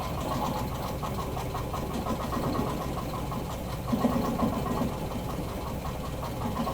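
A longarm quilting machine stitching an orange peel design, giving a steady mechanical hum and rapid needle chatter throughout, close and even.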